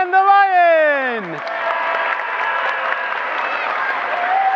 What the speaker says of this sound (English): The bear, round of applause, and the lion.